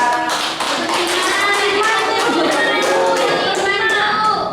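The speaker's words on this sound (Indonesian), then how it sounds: "tepuk tangan untuk Clara" Classroom students clap for a classmate, a busy run of many small hand claps tapping unevenly throughout, fairly close, with a few children's voices murmuring underneath.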